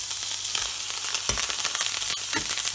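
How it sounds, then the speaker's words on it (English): Fillet steak searing in unsalted butter with thyme in a hot pan, a loud steady sizzle and crackle punctuated by a few brief scraping or shifting sounds, with no voices. "Just get that steak seared all the way around."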